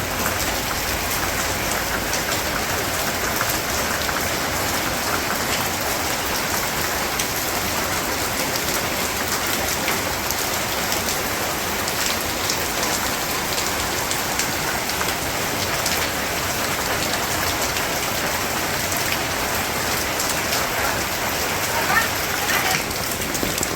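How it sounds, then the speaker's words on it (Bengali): Steady, even patter of light rain falling continuously in a village, a soft constant wash of drops on surfaces with no breaks. "বৃষ্টি তো ভালোই হইতেছে।"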